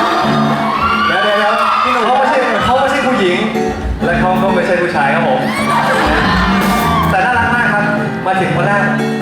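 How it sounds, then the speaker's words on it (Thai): A large crowd screams and cheers loudly and continuously at a birthday charity event, shrill shrieks and whoops rising and falling throughout. "ผมมั่นใจแล้วว่าจะได้เสียงกรี๊ดที่ดังพอสมควรนะ"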